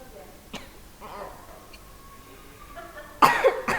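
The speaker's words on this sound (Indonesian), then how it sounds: "maaf ya, Ibu agak sedikit batuk" A woman teaching a lesson gives a sharp cough near the end, preceded by a smaller throat sound earlier, with faint speech and quiet room noise in between.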